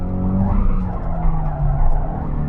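A 4-cylinder Ford Mustang driven hard through a corner, its engine droning loud and close as the tires skid and squeal steadily, with no talk over it.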